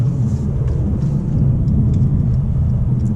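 A 2018 Mercedes C200 EQ Boost in efficiency mode rounds a roundabout, heard from inside as a loud, steady low engine and road rumble without voices.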